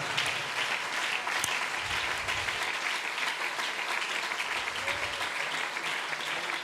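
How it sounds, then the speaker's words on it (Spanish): Steady, sustained applause from a church congregation at an evangelical convention service in Aruba, a dense wash of clapping hands filling the room throughout with no pauses. "por favor, déle ese aplauso fuerte al Señor"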